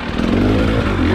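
A motorcycle engine hums steadily in first gear on a bone-dry trail, a loud close drone without gaps over a short stretch.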